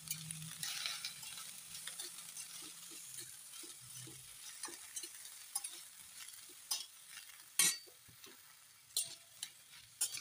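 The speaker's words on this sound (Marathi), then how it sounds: "अशा पद्धतीने सर्व भाज्या एकत्र कलसून घ्यायच्या आहेत छान." Mixed vegetables stir-fry in a little oil over low heat with a soft, quiet sizzle, while a spatula scrapes and taps against the pan in irregular sharp knocks, without any speech.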